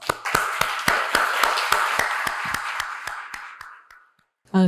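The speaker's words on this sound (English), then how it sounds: "Please join me in giving them a round of applause." Sparse applause at an academic ambassadors' panel on the Russo-Ukrainian war, a small group clapping in distinct, evenly spaced claps that thin out and fade to silence before a voice starts.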